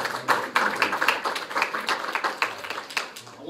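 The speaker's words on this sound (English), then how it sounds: "Please join me in a round of applause to recognize their commitment." An audience at a general membership luncheon claps in a dense, steady round of applause that fills the room, close and fairly loud.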